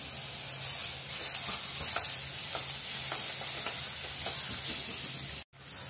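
Onions and grated carrot sautéing in a pan give a continuous bright sizzle with occasional stirring scrapes, close and steady, with a brief dropout near the end.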